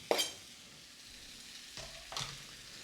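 Venison roast meat warming with seasoning in a pan, a soft sizzle with a sharp clatter at the start and a couple of brief stirring scrapes later.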